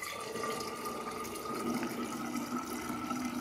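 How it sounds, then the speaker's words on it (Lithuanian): Room-temperature water poured into a tea and sugar liquid for growing kombucha, a steady splashing, gurgling stream filling a container, close and continuous. "tuomet supilam kambario temperatūros vandenį"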